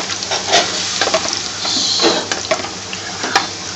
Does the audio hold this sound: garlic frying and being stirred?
yes